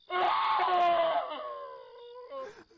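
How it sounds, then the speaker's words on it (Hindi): A man screaming and wailing in grief as a horror-story sound effect, a loud sustained cry that breaks into sobbing whimpers, with no other voices. "चिल्लाकर रोने लगा"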